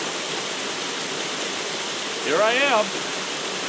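Steady broadband rush of the waterfall at Lost Creek Falls on a winter hike, continuous and fairly loud throughout, with a voice briefly speaking over it near the end.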